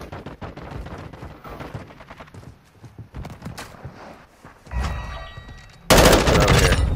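Gunfire from an M4 rifle on the Shoothouse map in Call of Duty: Modern Warfare 2, with scattered shots and clattering action sounds building to a loud, dense burst of rapid fire near the end.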